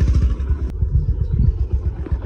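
A motorcycle is ridden along a road, its engine rumbling low and steady with a clattering throb close by.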